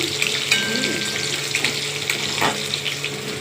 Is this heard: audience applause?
no